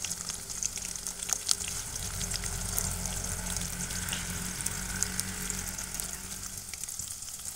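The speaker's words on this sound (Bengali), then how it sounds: "এবার দিয়ে দিচ্ছি কেটে রাখা পেঁয়াজ," Chopped onion hitting garlic and green chili frying in hot oil, a steady close sizzle with crackles and small spattering pops that continues evenly for several seconds, no voices over it.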